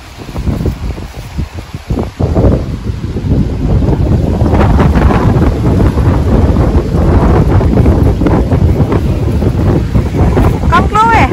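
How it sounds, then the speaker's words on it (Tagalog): Strong wind roars and buffets the microphone in heavy, sustained gusts, loud and close, outdoors in Norway. Voices are briefly audible near the start. "Mahangin."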